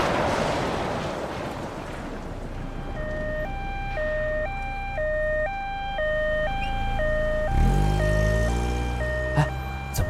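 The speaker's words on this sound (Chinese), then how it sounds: "救护车！" An ambulance siren wailing in a two-tone alternating pattern, loud and steady, with a heavy rumble building near the end and no talk in the middle.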